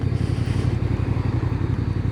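A Voge R625 motorcycle is ridden, its engine giving a loud, steady, pulsing throb with rapid even firing beats throughout, close and alone without talk.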